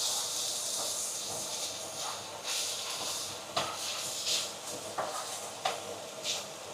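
Boiled meat fries with onions in a pan, a soft, continuous hiss punctuated by occasional scraping stirs and brief sputters, fairly quiet and close.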